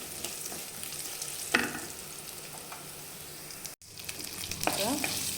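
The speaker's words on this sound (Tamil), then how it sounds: "நல்லா வெங்காயம் வதங்கட்டும்." Chopped onions sauté in oil in a pan, a steady close sizzle with occasional scrapes and stirring clinks, briefly cut off before the frying resumes.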